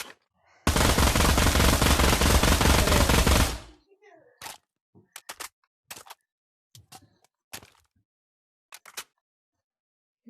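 SMG fire in the VR shooter Pavlov at a shooting range: a loud, close, unbroken automatic burst lasting about three seconds, followed by a string of sparse single shots and short bursts with quiet gaps.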